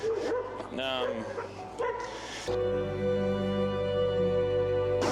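Dogs bark and whimper close by at an animal shelter, several voices yapping over one another, while people talk and a steady hum fills the room.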